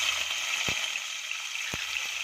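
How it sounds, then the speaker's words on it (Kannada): Curry leaves, broken chillies and chopped tomato fry in ghee in a pan, a steady close hiss of sizzling with two brief soft pops. "ಇವಾಗ ಇದನ್ನು ಫ್ರೈ ಮಾಡ್ಕೊಳ್ಳೋಣ"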